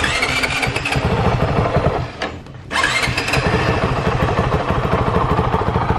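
A 2019 Honda CRF450L motorcycle fitted with a Yoshimura RS4 exhaust cranks and fires up, dropping out briefly before catching again and settling into a loud, steady, close-up idle with mechanical clatter.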